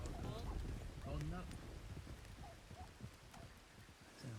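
Horses gallop with irregular clip-clop hoofbeats in a Red Dead roleplay video game, fairly near and moderately loud, with rushing wind and a voice talking over them.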